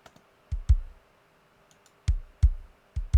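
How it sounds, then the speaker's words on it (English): Short, dull, low thumps from dead, dry kick drum samples with little ring, spaced in a loose rhythm: a pair, then a quiet gap, then three more close hits. "Just really dead, dry kicks."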